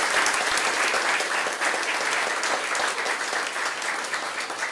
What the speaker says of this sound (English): Please give a hand of applause for our sponsors.